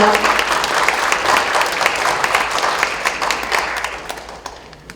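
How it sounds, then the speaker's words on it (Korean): A crowd at a book-launch talk concert in Korea applauds with dense, sustained clapping that gradually fades out toward the end. "여러분 큰 박수 부탁드립니다"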